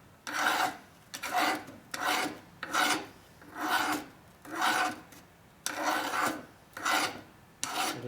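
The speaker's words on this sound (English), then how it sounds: "See, looking where I'm filing at." A hand file rasps on a metal part of a 2004 Harley-Davidson FLHT Twin Cam touring motorcycle in about eight close, rhythmic back-and-forth strokes, each a loud rasping burst split by short pauses.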